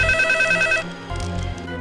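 Telephone ringing in a dubbed action movie scene, a bright electronic ring burst that cuts off, then a quieter second ring, close and clear with no talk over it.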